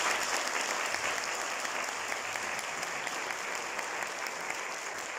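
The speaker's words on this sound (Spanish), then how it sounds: "Por favor, un aplauso para esta ampliación." A crowd at a Spanish-language announcement for a performing arts academy breaks into sustained, dense applause, loud and even throughout without any speech over it.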